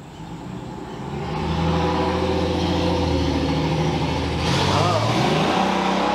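A noisy Jeep with a 4.0 liter inline six drives past on a residential street, its engine rising from a low rumble to a steady loud drone, then revving briefly as it turns near the end, with people talking over it.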